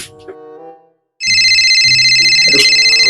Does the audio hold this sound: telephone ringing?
yes